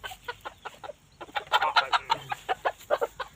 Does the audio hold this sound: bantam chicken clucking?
yes